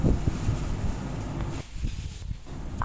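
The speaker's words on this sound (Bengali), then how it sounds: "এখানে এত সুন্দর হাওয়া দিচ্ছে না" Wind blows outdoors near old temple ruins overgrown with jungle, rumbling across the microphone in low gusts with a faint rustle, then easing briefly before rising again; no voices.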